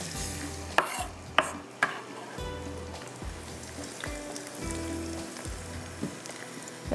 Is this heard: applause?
no